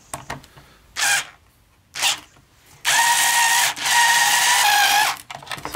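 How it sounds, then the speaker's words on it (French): Bursts of mechanical whirring, likely a power tool, fully unscrewing an adjuster on a Suzuki Cappuccino: two short bursts, then a longer sustained run with a brief dip, loud and close. "il faut dévisser entièrement le réglage pour pouvoir le déposer."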